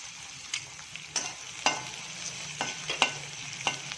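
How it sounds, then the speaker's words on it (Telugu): Onions frying in a pan for homemade pasta, with stirring clatter of a utensil against the pan in irregular taps over a soft steady sizzle, close and fairly quiet, no talking. "ఆనియన్స్ కూడా ఫ్రై అయ్యాలి"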